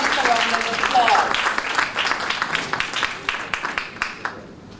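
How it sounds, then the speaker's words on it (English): An audience at a primary schools' public speaking competition applauds a speaker, dense clapping at first thinning into scattered separate claps that die away, with a voice audible early on. "Give Ms. Pina Bowen from the Clare Valley government a round of applause"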